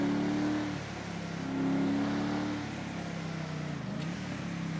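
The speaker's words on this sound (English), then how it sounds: "Love the sound of these chargers." A police Dodge Charger's engine in Grand Theft Auto 5 revs up and settles, a smooth mid-pitched drone rising twice and easing off, with no talk over it.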